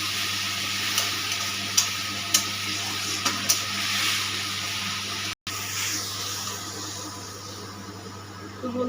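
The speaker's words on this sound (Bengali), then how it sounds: "এবার তেলটা গরম হয়ে গেছে, আদা, পেঁয়াজ, রসুন পেস্টটা দিয়ে দিচ্ছি।" Ginger, onion and garlic paste frying in hot oil for potato curry, a steady soft sizzle with a few sharp clicks of a utensil stirring the pan, fairly quiet and without voices.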